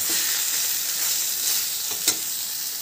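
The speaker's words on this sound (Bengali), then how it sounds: "দিয়ে ভালো করে ভেজে নেব" A coconut mixture sweetened with sugar crackles and sizzles in oil left over from frying prawns, a steady close hiss with one brief sharper pop near the end.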